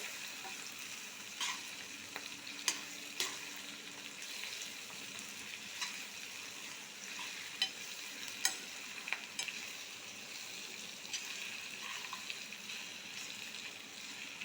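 A pan sizzles steadily close by, with scattered sharp clicks of stirring against the metal, no one speaking.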